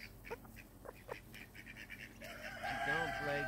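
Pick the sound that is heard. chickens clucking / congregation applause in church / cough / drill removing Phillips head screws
chickens clucking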